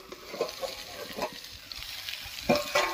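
Winter vegetables frying in a little oil and spices in a pan, with soft sizzling and a few brief splashy bursts as water goes in, faint and close, no voices.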